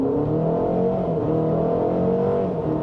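A 2024 Cadillac XT4 SUV in sport mode accelerates at full throttle with a loud, steady engine drone from inside, pitch climbing through the pull.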